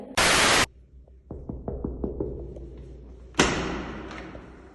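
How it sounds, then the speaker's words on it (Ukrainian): Knocking on an apartment door for a staged housewarming visit: a burst of loud noise first, then a run of about eight quick, sharp knocks, followed by another noisy swell. "Так що стукаємо в двері."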